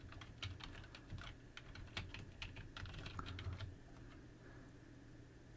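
Keys on a computer keyboard are tapped in a quick burst of light clicks to enter a short word, heard close and quiet, then the tapping stops near the end.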